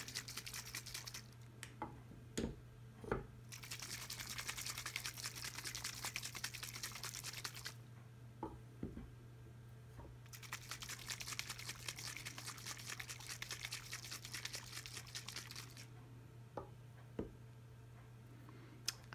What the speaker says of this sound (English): I'm then going to give our boiling tubes a really good shake to make sure the soil and the water